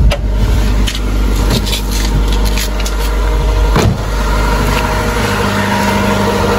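A car engine idles high at around 1,500 RPM, a steady, close rumble with a deep low drone. Occasional faint clicks and knocks sound over it, with no talking.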